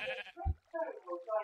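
Sheep bleating in the video game Minecraft, a short wavering bleat heard close alongside a low thump, with a voice briefly mixed in.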